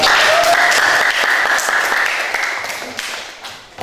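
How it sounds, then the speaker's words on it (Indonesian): Students in a classroom clap together, a loud burst of applause that starts at full strength and gradually thins and fades over a few seconds, with a few scattered claps and murmurs at the end. "Oke, kita beri aplaus kepada"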